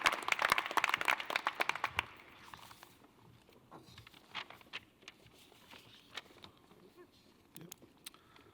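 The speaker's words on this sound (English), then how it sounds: "So let's give them a round of applause." Audience applause for the sponsors at a small business event in Savannah, a burst of clapping for about two seconds, then tapering into scattered faint claps and quiet room noise.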